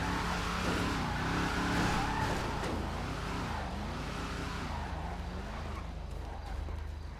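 A video-game muscle car revs hard and skids, with its engine pitch rising and falling in wavering sweeps under squealing tires, loud and close, fading slightly toward the end.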